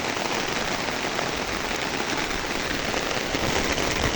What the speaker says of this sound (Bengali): আমার ছাতার দিকে দেখলে বুঝতে পারবেন যে বৃষ্টি কেমন হয়েছে